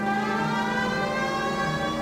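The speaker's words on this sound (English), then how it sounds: "Drive like this, at least use the siren." Police car siren from the game L.A. Noire, a steady wailing tone held loud and continuous throughout over a low engine rumble.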